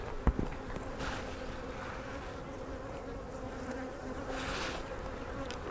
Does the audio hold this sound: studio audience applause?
no